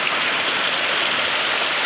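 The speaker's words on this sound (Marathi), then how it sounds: "मित्रांनो बाहेर पण बघू शकता पाऊस पण इतका खतरनाक आला आहे ना." Heavy monsoon rain pours down outside in a dense, steady hiss of falling water that stays constant and fairly loud with no pauses.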